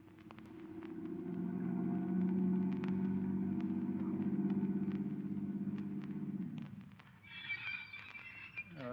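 A car rumbles steadily as it draws near and idles for several seconds, its low engine drone fading out before a brief higher-pitched sound at the end; no speech.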